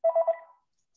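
A mobile phone ringtone sounds briefly and faintly, three quick pulsed tones that trail off within half a second, followed by silence.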